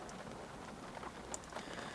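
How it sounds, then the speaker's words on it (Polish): Steady, faint rain falling outdoors on a wet day, a soft continuous patter with occasional distinct drops. "pewnie słychać na nagraniu, że deszcz pada znowu."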